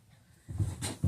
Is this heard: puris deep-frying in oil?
no